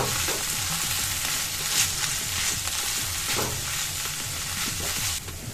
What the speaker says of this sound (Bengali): তেল গরম হয়ে গেছে। এখানে আমাদের দুটো মোটা পেঁয়াজ আছে, দিয়ে দিচ্ছি। এরপর আদা বাটা আর রসুন বাটা আমরা দিয়ে দিচ্ছি।